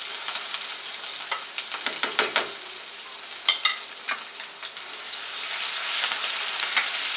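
Onion paste with ginger and garlic paste frying in hot oil for a Saoji chicken curry, giving a loud, continuous sizzle broken by scraping stirs, with no talking.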